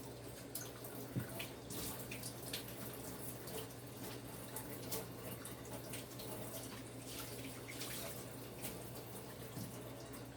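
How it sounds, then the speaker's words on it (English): Hands washed under a running kitchen tap while baking, a steady, fairly quiet rush of water with small splashes and shifts as the hands move through the stream. "So I'm going to wash my hands."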